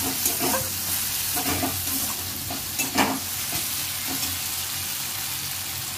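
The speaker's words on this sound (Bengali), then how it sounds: "টমেটোটা নরম হয়ে গেলে, ভাজা হয়ে গেলেই এর মধ্যে আদাটা দিয়ে দিলাম।" Ginger fries with softened tomatoes for a soybean curry, a loud, steady close sizzle with a few spoon strokes and clinks scattered through it.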